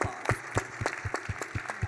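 An audience at a conference panel session claps in a quick, evenly spaced patter of sharp hand claps, faint and somewhat distant.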